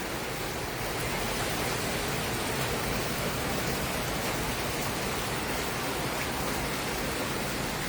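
Heavy storm rain pours down in Carlisle, a dense, steady roar of drops hammering surfaces without letup, close and loud throughout with no voices.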